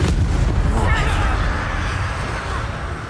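A Confringo blasting spell from Hogwarts Legacy goes off in a loud, close burst, its boom rumbling and fading over a few seconds.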